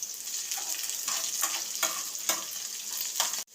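Shallots, cashews and curry leaves crackle and sizzle in hot ghee, a bright, dense frying hiss with bursts of stirring every half second or so, close and fairly loud, ending in a sudden clatter.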